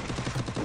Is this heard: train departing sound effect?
no